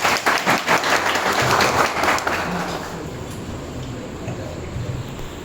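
An audience at a farewell ceremony applauds, with dense steady clapping for about three seconds that then thins and fades to a lighter patter.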